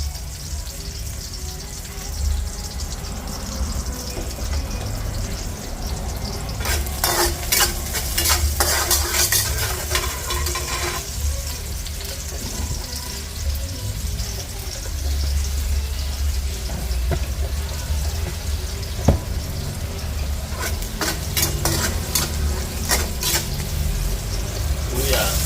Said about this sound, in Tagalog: Gigisa na tayo. Bawang.